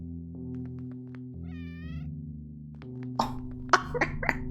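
Cats in the OneShot video game make a soft rising meow over a steady low game tone, then several short sharp cat calls and thumps near the end, with no talking.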